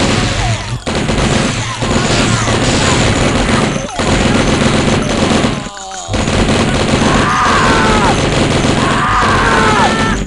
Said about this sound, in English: we're just gonna get the Tommy gun out for this